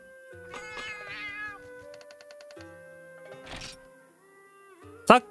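A Felyne cat chef in the Monster Hunter 2 video game meows a few times amid electronic game tones, ending with a louder, brighter cry near the end.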